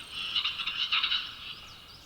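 A capercaillie calls from an old coniferous forest in the Bavarian mountains with a faint, rapid, warbling, croaking series. The call rises and fades over about two seconds, distant and echoing.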